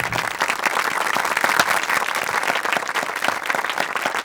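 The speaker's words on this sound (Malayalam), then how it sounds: "കൈയടിച്ചേ, എല്ലാവരും കൈയടിക്ക്." A crowd at a police camp gathering claps steadily and densely, a continuous rattle of applause with no break across the few seconds.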